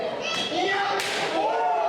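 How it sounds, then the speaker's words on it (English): A sharp open-hand chop cracks against a wrestler's chest during a tournament final match, one loud slap heard over crowd noise and commentary. "Big, thunderous chop, sound like a gunshot"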